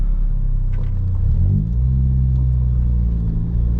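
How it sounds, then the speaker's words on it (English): A Ford Fiesta ST engine idles at a gas station just after hard pulls, a loud, steady low rumble that dips briefly mid-way, then settles into an even drone. "Let's just idle in the gas station after doing these pulls."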